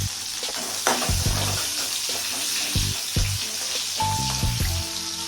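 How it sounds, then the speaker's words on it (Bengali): Grated onion added to hot white oil, with nigella seeds already tempered, frying in a pan for a fish curry: a loud close sizzle with intermittent stirring clanks and scrapes, no talking. "গ্রেট করা পেঁয়াজ দিচ্ছি"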